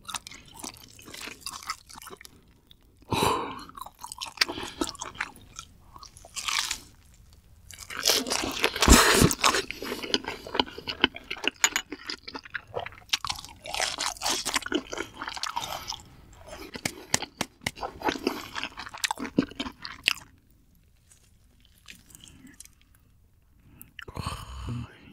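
Crunchy cheese-filled fried food dipped in cheddar sauce being bitten and chewed up close, with loud crisp crunches in bursts and softer squishy chewing between, plus brief quiet pauses.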